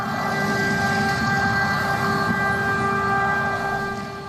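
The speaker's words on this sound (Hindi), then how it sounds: "कीव और ओदेसा समेत कई शहरों में सायरन बजे" Air raid siren sounding across a Ukrainian city, a steady loud wailing tone with sustained harmonics and dense background rumble, holding level throughout.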